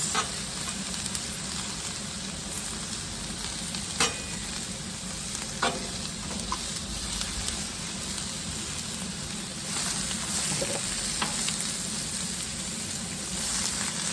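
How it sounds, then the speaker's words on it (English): Zucchini cooking down in a pan, a close, continuous sizzle like light rain with occasional small pops and clicks, unbroken by speech. "And we will let this cook down, and it will release all of its juices."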